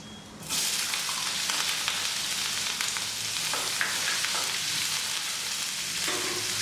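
Sizzling and crackling of cumin and onion frying in hot oil starts abruptly and continues steadily, with occasional soft stirring noises and no speech.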